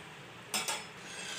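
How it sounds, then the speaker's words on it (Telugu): A spoon stirs semiya upma in a pan after salt is added, giving two brief close scraping clinks over a quiet background. "సాల్ట్ యాడ్ చేసిన తర్వాత ఇలా బాగా మిక్స్ చేసుకోవాలి"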